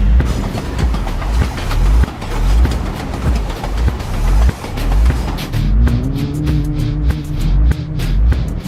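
A freight train approaches on the tracks in a TV drama scene, a heavy rumble with rhythmic clacks and thumps, growing nearer, joined by a rising tonal whine in the second half.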